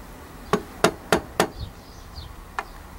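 A hammer, likely plastic or rubber, tapping during clutch work on a Honda CB400 engine rebuild indoors: four crisp, evenly spaced strikes, one faint later tap, close and alone.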